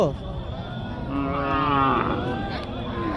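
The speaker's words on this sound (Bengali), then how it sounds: "দর্শক আমরা দেখতে পাচ্ছি গরু আসতেছে" Cattle are led through Sherpur ferry ghat livestock market, one animal giving a loud drawn-out moo close by amid the busy chatter of the crowd.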